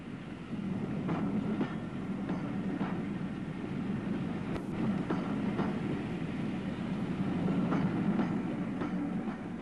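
A departing E1 steam locomotive hauling narrow coaches on a British railway in 1958 gives a steady rumble with regular clickety-clack wheel beats on the rail joints, moderately close, with no voices.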